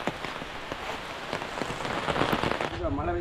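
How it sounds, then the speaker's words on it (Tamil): Rain falling during a walking journey in Sri Lanka, a steady patter of drops on the surface and an umbrella, fairly close, with faint voices near the end. "இப்போ மழை பெய்யுது"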